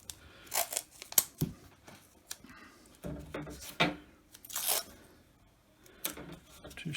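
Green painter's tape torn off the roll into strips, a series of sharp rips and crinkles with pauses between them, close and fairly quiet, no talking.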